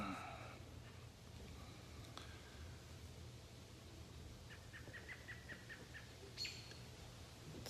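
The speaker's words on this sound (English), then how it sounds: "Hopefully you guys can hear the birds tweeting." Birds tweet outside near a quiet back deck, faint scattered chirps and a short run of repeated high calls over a soft steady background hum, distant and sparse.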